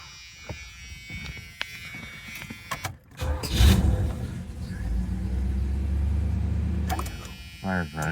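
A 1979 Pontiac Trans Am WS6 with a 400 V8 and four-speed cranks briefly and catches, then settles into a deep, rumbling idle close by, after faint background sounds and a short clatter before the start.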